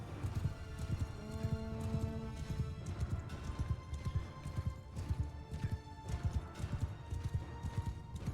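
Horses gallop in Mount and Blade II: Bannerlord, a steady rapid clip-clop of several hooves with occasional whinnies and tonal game sounds layered over the busy thudding.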